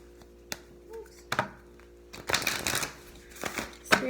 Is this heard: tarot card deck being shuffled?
yes